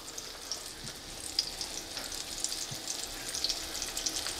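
A breaded pike cutlet, coated in breadcrumbs, sizzles in a frying pan with a steady, bright hiss of hot oil and scattered small pops throughout, heard close and with no voices.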